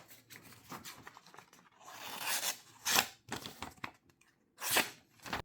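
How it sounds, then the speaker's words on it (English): The small knife blade of a NexTool S11 Pro multitool slices through material with soft scraping, rasping strokes that rise in a few short bursts, close and fairly quiet. "Let's do a cut test on the knife."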